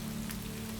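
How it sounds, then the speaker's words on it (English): Steady rain falls outside a foggy stone keep in the Scottish Isles, a soft, continuous, even hiss close by with no voices. "Rain whispered outside"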